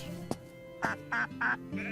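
Several nasal duck quacks sound in quick succession in the game Travellers Rest, close and clear, over a steady musical background with a soft tap at the start.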